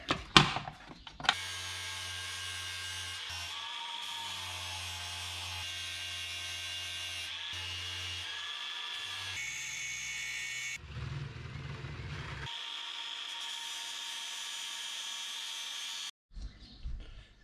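A power tool with a flap disc grinding metal with a steady high whine, pausing and changing load several times, close and continuous, then stopping near the end.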